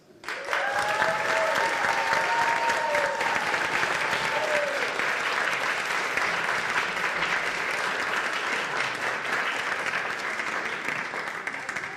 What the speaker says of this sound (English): we'll give them one more round of applause